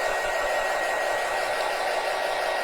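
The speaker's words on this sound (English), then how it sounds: "So let's get this dry real fast." A hair dryer blows a steady, close, even hiss of air the whole time to dry paint on a lavender tiered tray. No one speaks.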